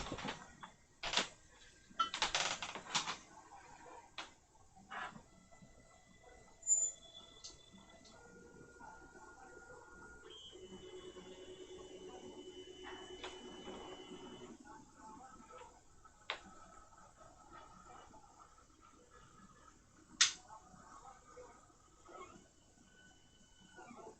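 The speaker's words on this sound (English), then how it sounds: "Just checking the printer there, the first couple movements." A 3D printer starts its first movements on a workbench, giving faint ticking clicks and short stepper-motor whines that shift pitch, with a steadier motor hum in the middle and a few sharper clicks later, all quiet and without talk.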